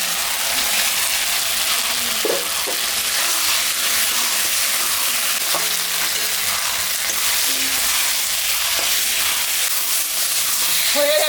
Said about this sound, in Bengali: মশলাটা ভাজা হয়ে গেছে তেল ছাড়ে দিতে এখন আমি বেগুনটা দিয়ে দিই